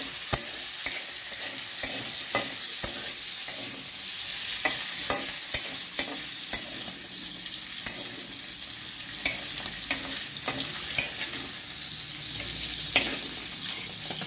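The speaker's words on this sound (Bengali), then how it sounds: "এটা এই তেলটা আমি পেঁয়াজটা ভাজার জন্য দিচ্ছি" Onions frying in oil for prawn chowmein, a soft steady sizzle punctuated by sharp, regular clacks and scrapes of a utensil stirring in the pan.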